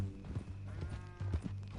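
Horse hooves clip-clop in Red Dead Redemption 2, a short run of steady, close hoof strikes over a low rumbling background.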